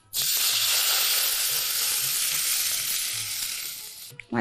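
A loud, steady sizzle as a yogurt and gram flour mixture hits hot oil tempering, hissing continuously for about four seconds before fading, with a faint clink at the end.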